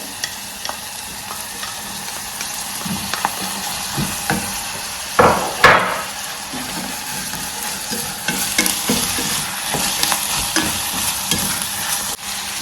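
Chopped green pepper sizzles steadily in a hot pan as a spoon stirs it, with a continuous frying hiss, occasional scrapes and a louder clatter partway through, close up.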